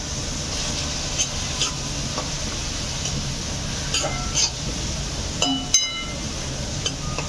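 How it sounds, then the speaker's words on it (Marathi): Onions frying in oil in a pan until brown, a steady close sizzle running throughout with occasional light clinks and stirring scrapes of a utensil. "कांदा जो आहे पूर्ण ब्राऊन होईपर्यंत ह्याला व्यवस्थित असं भाजायचं तेलामध्ये"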